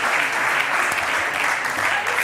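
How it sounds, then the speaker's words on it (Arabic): An audience on a quiz show claps loudly and steadily for a contestant, a dense continuous burst of applause with a voice faintly beneath it. "تصفيقة كبيرة عليه"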